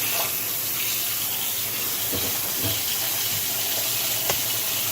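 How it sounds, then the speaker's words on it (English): Cold water runs steadily from a kitchen sink tap onto raw salmon, a constant close hissing splash with a few small clunks underneath and no talking. "Run some cold water."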